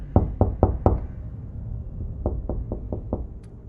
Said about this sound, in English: The knocks came again. Same time, same rhythm.